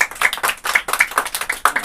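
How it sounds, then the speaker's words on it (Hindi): A small group of schoolchildren in Bihar claps hands in quick, loud, rhythmic bursts, about a dozen sharp beats in under two seconds, with no talking. "वेरी गुड, ताली बजाओ।"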